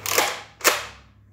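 Two sharp pops from a Nerf Flipshots blaster firing darts, each a crisp snap followed by a short decaying tail, spaced about half a second apart and close by, with no talk.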